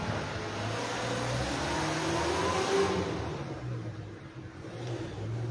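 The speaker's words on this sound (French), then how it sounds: "Vous entendez, non? Les gros camions." Large trucks pass by outside, their engine rumble swelling to a peak and then easing off as they move away, with no voices.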